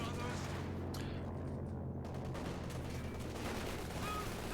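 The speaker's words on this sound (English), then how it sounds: "And those MGs have been doing quite a bit of suppressive work." Machine gun fire and battle noise from the real-time strategy game Company of Heroes 2 during a 2v2 match, a dense continuous wash of gunfire and explosions running the whole time under steady background sound.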